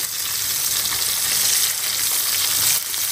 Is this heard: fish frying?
yes